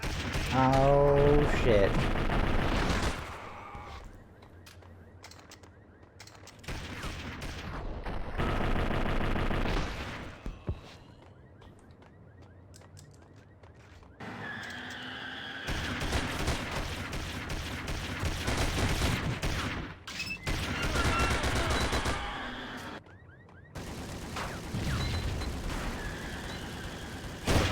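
Gunfire in a modded Max Payne playthrough: dense bursts of automatic shooting and heavy shots in several loud clusters, separated by quieter gaps, with brief spoken remarks in between.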